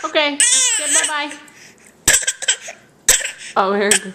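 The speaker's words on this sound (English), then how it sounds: "here, coughing fit again." A young child's coughing fit, several sharp, loud coughs in quick bursts between whimpering, crying vocal sounds, with an adult voice talking nearby.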